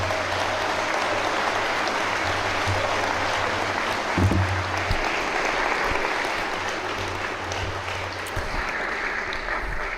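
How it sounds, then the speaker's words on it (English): A crowd applauds two politicians, a senator and a city councilman, brought to the podium at a district attorney candidates' debate. The clapping is steady, dense and sustained for the full ten seconds, close and loud. "Let's give them a round of applause."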